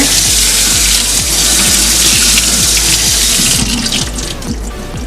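Canned beans being rinsed under a running kitchen tap, a loud continuous rush of water with small irregular splashes as it strikes the beans, easing a little in the last second.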